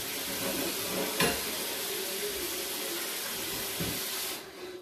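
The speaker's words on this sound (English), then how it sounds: "I transfer it to the fire and let it boil again for 10 minutes." A pot of black-eyed beans porridge with yam is set over a fire. It gives off a continuous hiss and bubbling that runs evenly, then fades near the end.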